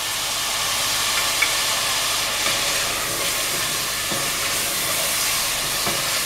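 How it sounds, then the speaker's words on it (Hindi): Meat frying in a pan for a dhaba-style chana daal, a steady broad sizzling hiss running throughout at even level with a few faint clicks, no voices. "हम गोश्त को तलते जा रहे हैं और इसके साथ हम चीज़ें भी डाल रहे हैं।"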